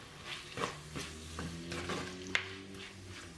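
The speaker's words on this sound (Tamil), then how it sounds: "இப்போ இதை மிக்ஸ் பண்ணி போட்டு ஒரு 5 நிமிஷம் வதங்க விடுவோம்" Onion, chillies and lemongrass stirred and sautéing in a pan for a spicy chicken kulambu, with soft sizzling frying and a few scraping stir strokes and light utensil clinks, close and fairly quiet.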